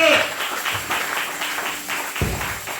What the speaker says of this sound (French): Applaudissez le Seigneur Jésus-Christ.